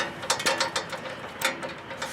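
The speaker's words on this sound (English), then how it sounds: "Get our ratchet on it." A ratchet on an extension loosening a bolt on a John Deere GX75 with a Kawasaki 9HP engine, rapid close metallic clicking in uneven bursts over about two seconds, no voices.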